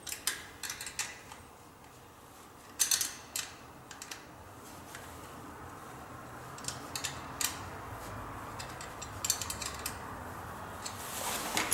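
Small bolts on a bicycle front derailleur being tightened with a hand tool, giving a run of quiet ratcheting clicks and light metallic ticks that continue steadily over faint background noise, with no talking.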